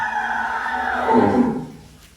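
Madura cattle moo in a single drawn-out low call that swells and then fades over about two seconds, close by and heard alone without any talk.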